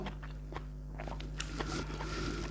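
Close, steady crunchy chewing of blanched beef tripe, with wet, rubbery bites repeating under a constant low hum, no talking.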